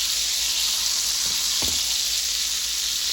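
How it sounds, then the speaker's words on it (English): Burger patty frying in a pan of bacon grease, a steady close hiss of sizzling with one or two soft utensil knocks near the middle and no talking. "I'm just gonna cook that a couple minutes on each side."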